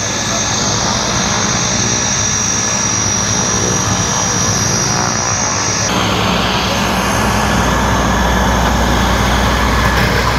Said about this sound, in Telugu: చూసారు కదా, అది ఫ్లైట్ అనమాట మన ఫ్లైట్.